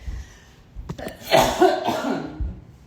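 A few short coughs, close and fairly loud, with a throat-clearing rasp between bursts and no talking.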